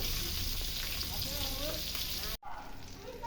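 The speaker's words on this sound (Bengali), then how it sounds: "তো আমার মাছ ভাজা তো শেষ এখন মাছগুলো তুলে নেই" Pangas fish frying in a pan, a steady dense sizzle and crackle that runs close and loud, then cuts out abruptly and returns more faintly.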